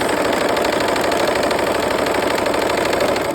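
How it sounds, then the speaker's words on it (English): A sewing machine stitches quilt squares together, its rapid, even mechanical chatter running close and loud without a break for the whole stretch. "let's go ahead and sew those together"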